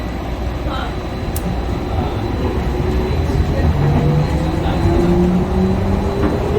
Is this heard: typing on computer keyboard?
no